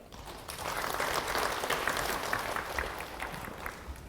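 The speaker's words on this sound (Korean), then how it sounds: "수고해 주신 박종일 책임진 연구원님께 다시 한번 큰 박수 부탁드리겠습니다" Seminar audience applauds at the close of a talk on capital company credit ratings: sustained, dense clapping from a crowd, steady and moderately loud for the full length.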